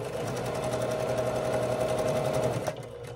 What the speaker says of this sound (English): put that under my needle. And I like to hold that first seam in place while I sew to it